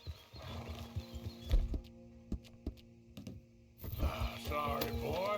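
Horse hooves clip-clop in Red Dead Redemption 2, a string of uneven hoofbeats with a brief whinny and game music, loud at the start and end with a quieter gap in the middle.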